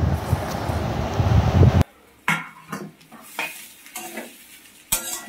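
Grated papaya frying in oil and ghee: a loud dense sizzle at first, then a spoon scraping and clinking against the pan in separate strokes over a quieter hiss.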